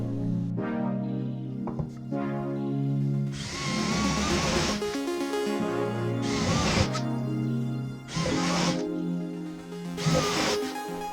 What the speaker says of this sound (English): Drill the dowel holes in workpiece 2 right on the pin